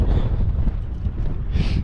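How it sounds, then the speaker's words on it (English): Gusty wind buffeting the microphone on a low-water beach at Sandilands on the Lincolnshire coast while sea fishing, a steady loud rumble with no talk. "It is a bit windy, it is gusting, and then it stops."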